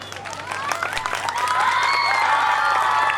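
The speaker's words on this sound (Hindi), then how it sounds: "इस पर वालिदैन की तालियां बजी हैं" Parents applaud at a school annual function, a dense, continuous wash of clapping from a crowd that swells after the first half second and stays loud, with a few whistle-like tones and scattered voices mixed in.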